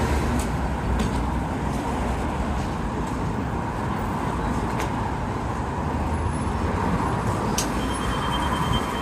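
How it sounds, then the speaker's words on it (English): A city bus on the Stanley Park route passes in Vancouver street traffic at sunset, its steady broad rumble blending with a constant roar of cars, and a few faint brief clanks rising above the traffic. "There's the Stanley Park bus."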